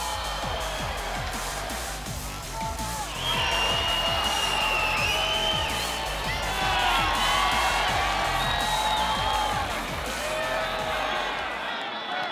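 A crowd at the US Sumo Open keeps up a continuous roar with whoops and rising shouts of cheering. It swells partway through and stays loud, with voices mixed into the din.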